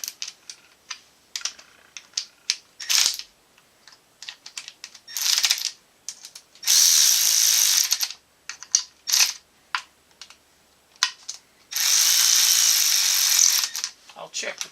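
Ratchet snugging the bolts on a Studebaker engine front cover, heard as two sustained bursts of rapid clicking, close and fairly loud, separated by scattered short metallic ticks and handling noise.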